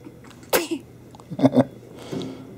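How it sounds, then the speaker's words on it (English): A 10-day-old baby girl sneezes, one sharp little burst followed by a couple of softer huffing sneezes and a small breathy sound, close up and quiet. "Got her sneezing on video."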